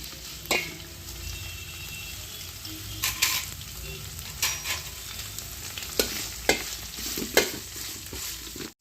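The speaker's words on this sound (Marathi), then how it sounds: "जरा मिरची फ्राय करू द्यायची" Finely chopped green chillies frying in hot oil while being stirred, for a crispy puffed poha chivda; a steady close sizzle with intermittent scraping stirs, no talking.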